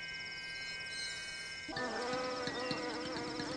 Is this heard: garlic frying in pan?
no